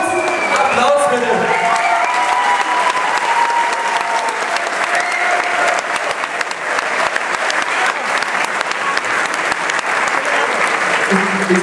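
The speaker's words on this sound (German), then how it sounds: "Applaus bitte!" Sustained loud applause from a large crowd in a hall at a school graduation ball, steady clapping throughout with some cheering and voices mixed in.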